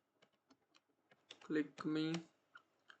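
Light tapping on a computer keyboard while writing C++ code, a scatter of soft keystrokes at the start and end, with someone talking over the middle stretch.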